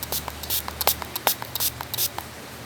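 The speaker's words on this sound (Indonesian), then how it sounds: "Aku mau semprot HP yang sekarang yang dibuat" An aerosol spray aimed at a phone gives a series of short, hissing bursts in uneven rhythm, close and fairly loud, with no voices.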